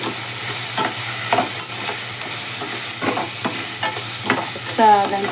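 Onions frying for a chicken keema gravy, with a steady close sizzle and repeated scraping stirs of a spoon across the pan throughout.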